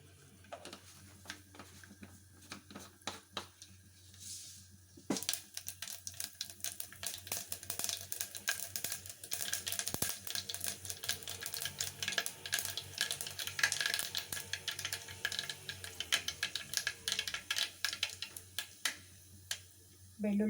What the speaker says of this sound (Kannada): ಎಣ್ಣೆ ಕಾಯ್ದು ಸ್ವಲ್ಪ ಸಾಸಿವೆ ಹಾಕ್ಕೊತಾ ಇದ್ದೀನಿ